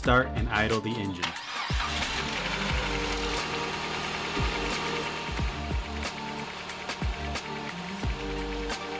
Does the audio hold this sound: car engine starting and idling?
yes